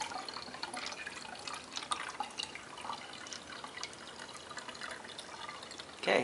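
Water poured into the chamber of a Fisher & Paykel bubble CPAP device until it overflows into the suction chamber, a steady soft liquid trickle and drip throughout, with a brief louder splash near the end.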